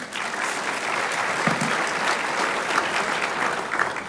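A large audience at a State of the City address in Biloxi gives a sustained round of applause, dense and even clapping filling the room from start to finish.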